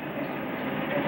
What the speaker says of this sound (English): Well, there's our train.